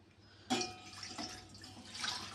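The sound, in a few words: pouring a glass of milk for tea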